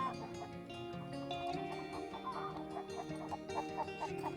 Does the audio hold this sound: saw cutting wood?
no